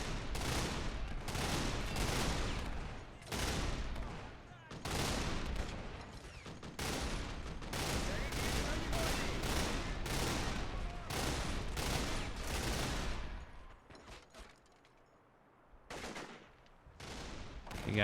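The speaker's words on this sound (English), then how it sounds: "Machine guns just firing away at the Serbian troops." Machine guns fire on Serbian troops in a Kosovo War battle in Men of War: Assault Squad 2. Long, loud, rattling bursts are broken by short gaps, easing to quieter shots near the end.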